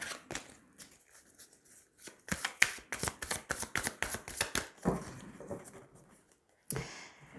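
A deck of tarot-style cards is shuffled and cut by hand in a rapid run of close, crisp riffling flicks, then a pause and a final soft slap of the cut, with no talk.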